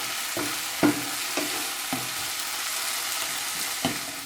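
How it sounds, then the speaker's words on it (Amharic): Garlic sautéing in a pan for Ethiopian egg tibs in sauce (enkulal besigo tibs), a steady sizzle broken by a few spoon-scrape stirring clicks, close and alone without talk. "ቶሎ አማስላለሁ እና ትንሽ አቁላልቼ ነጭ ሽንኩርቱን እንገናኛለን።"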